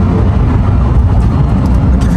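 A Lamborghini Huracán STO engine in Trofeo mode, running in during break-in and cruising gently, gives a steady, loud low rumble that holds level from start to finish.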